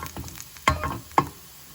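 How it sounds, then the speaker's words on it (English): Red lentils stirred and fried in a non-stick pan, giving a soft, low sizzle with a couple of brief scraping strokes of the spoon, close and quiet with no talking. "You want to make sure it cooks evenly on all sides. So we just need to keep on stirring it."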